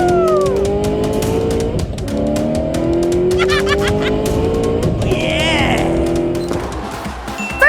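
Lightning McQueen races in a video game, his engine whining in loud rising and falling sweeps, with brief tire squeals and other game sounds layered over it.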